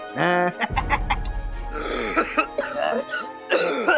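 Several harsh coughs and throat-clearing bursts from a nearby person, with voiced, strained vocal sounds in between.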